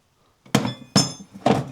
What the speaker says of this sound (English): A regular pry bar.